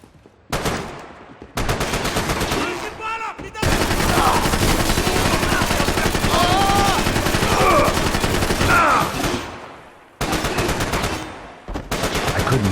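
Heavy gunfire from the video game Max Payne 3, rapid machine-gun bursts and shots filling long stretches, broken by brief silent gaps, loud and close, with voices mixed in.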